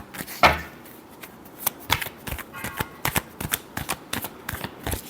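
A deck of tarot cards being shuffled by hand up close, crisp riffling and flicking bursts in an irregular run of quick snaps and rustles with no talking.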